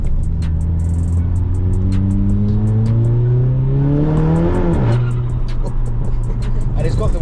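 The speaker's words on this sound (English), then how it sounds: "it's got the wastegate noise as well" Stage 2 VW Golf GTI pulling hard with a loud, rising engine note, then lifting off so the wastegate releases with a sharp burst before the drone settles.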